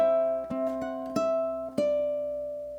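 A ukulele plucks the melody of the Irish ballad Red is the Rose, three or four clear notes ringing out one after another, close and alone.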